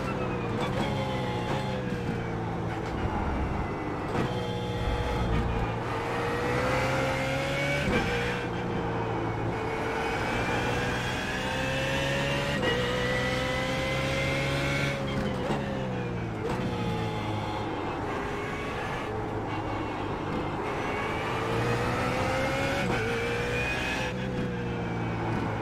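A BMW Z4 GT3 race car's engine roars steadily through laps of Spa in iRacing, rising and falling in pitch with repeated upshifts and downshifts, loud and continuous throughout.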